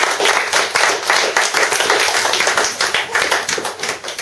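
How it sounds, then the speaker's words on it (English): Club members at an award gathering clap together in a dense, continuous round of applause, close and loud, with many overlapping hand claps and no speech. "So I'd just like to please all give yourselves a round of applause."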